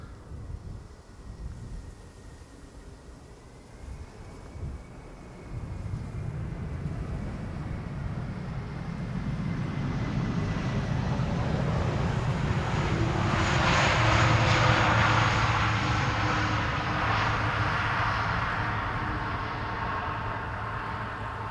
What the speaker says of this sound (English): Turkish Airlines flight 1957, which was going to the Polderbaan after all, landing here, arriving from Istanbul